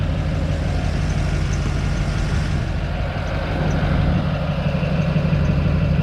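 A Humvee swapped with an LBZ Duramax diesel, fitted with an Allison transmission, idles steadily up close with a deep, even rumble that holds for several seconds, with no talking over it.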